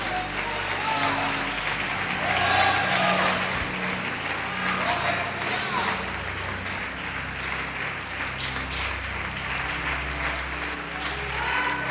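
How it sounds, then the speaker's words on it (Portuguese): Church congregation applauding in a sustained, loud wash of clapping that swells and fades slightly, with voices calling out underneath throughout. "Quem crê pode aplaudir o Senhor Jesus e glorificar."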